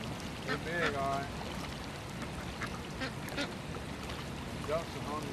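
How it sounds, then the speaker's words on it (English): Ducks at a fishing pond give a few nasal quacks, mid-distance, in two short bursts. A constant watery hiss of ambient background runs underneath. "Ducks are hungry too."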